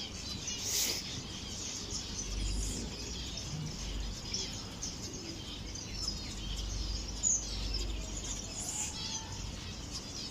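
Small birds chirp in a sheltered aviary enclosure, faint high tweets scattered over a steady low hum and rustle, with no talking.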